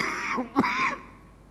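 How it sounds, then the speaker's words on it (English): A single person clears their throat with a short, rough cough in the middle of a keynote address, close and fairly loud. "I'm still coughing until now."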